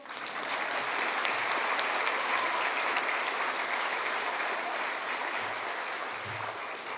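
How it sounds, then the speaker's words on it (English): An audience at a Year 12 school awards ceremony claps steadily and densely for a student returning to her seat, the applause sustained and fairly close for several seconds. "I think we might clap her back to her seat."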